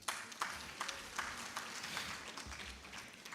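Audience clapping at an HIV service delivery integration summit, faint and distant scattered applause in a large hall, continuous with occasional sharper claps rising above the murmur.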